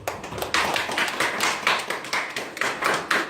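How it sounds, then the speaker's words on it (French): A church congregation claps in a steady, rhythmic beat to acclaim the Lord, the sharp hand claps repeating evenly and close, with no talking over them. "On peut acclamer le Seigneur."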